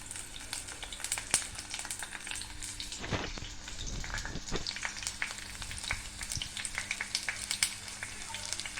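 Chopped onion sizzles and fries steadily in a hot pan with cinnamon and almonds, a constant crackling hiss with occasional stirring scrapes, close and moderately quiet.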